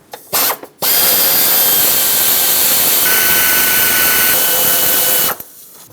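A powered socket wrench backs bolts out of an alternator bracket on a Ford E-350 5.4L V8: two short bursts, then a loud, continuous close-up whir lasting around four and a half seconds before it cuts off.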